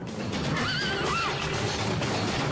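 Racehorses tumbling on a racecourse; a clear whinny rises and falls midway through, set against a continuous loud rushing background.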